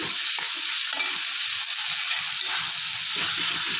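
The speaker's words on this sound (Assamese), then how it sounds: "এইখিনি এতিয়া মই ধুনীয়াকৈ লৰাই চৰাই ভাজি ল'ম।" Masala paste stirred and fried in a pan for a drumstick curry gives a steady, close sizzle with scraping stirs throughout, no talking.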